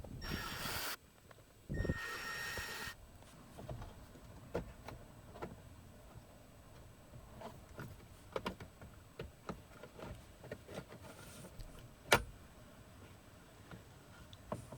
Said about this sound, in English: Next you have to remove this plastic cover, and there are 3 screws holding it in place.